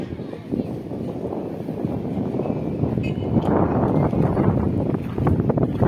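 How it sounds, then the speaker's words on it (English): Strong wind buffets the microphone on an upper floor of a fire-gutted building after an LPG gas explosion, a loud, constant rushing roar that swells and gusts throughout. "So there's a lot of wind on this upper side"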